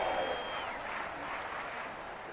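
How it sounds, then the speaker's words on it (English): Crowd applause in the Madden 23 football game for a Texans defensive stop against the Bears, a broad wash of distant stadium clapping and cheering that slowly fades. "How about some applause for the defense there?"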